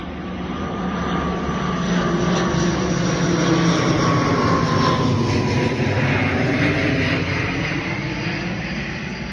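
A propeller airplane passes overhead, its engine drone swelling to a peak midway and then fading slowly, loud and steady with no voices.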